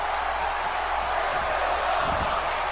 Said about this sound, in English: You can hear the crowd chanting, "This is awesome,"